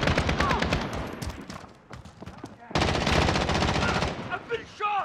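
Rapid automatic gunfire from Call of Duty: Modern Warfare plays loud and close in long bursts, pausing briefly before another heavy volley, with shouted game voice lines mixed in.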